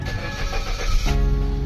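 A Suzuki SX4 with a cranking no-start fault, just after its computer box codes were cleared, cranks briefly and then catches into a steady, close idle hum.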